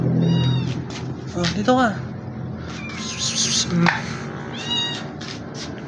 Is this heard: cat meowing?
yes